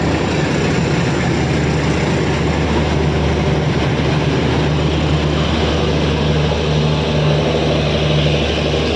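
A train pulls into a station with a loud, continuous low rumble and engine drone that stays steady and dense throughout, with no voices on top.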